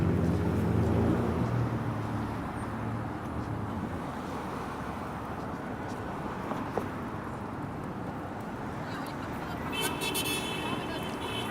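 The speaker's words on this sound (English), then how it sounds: "Honk, honk, honk." Cars honk in Toronto street traffic on Eglinton on a freezing cold night. A steady roadway rumble of passing vehicles builds to a short cluster of horn toots near the end.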